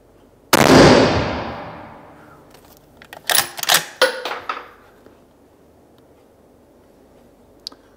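A single sharp rifle shot from a LIWA ARMS straight-pull rifle cracks loud and close, its echo trailing off over a second or two, followed by a quick series of metallic clacks as the bolt is cycled.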